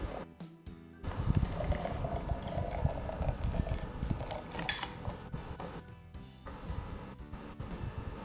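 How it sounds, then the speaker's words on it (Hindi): Cold water poured into a jug holding a tamarind mixture for a summer drink, a steady close splashing and filling that runs for several seconds after a brief pause at the start. "अब मैं इसमें डालूँगी पानी, ठंडा पानी।"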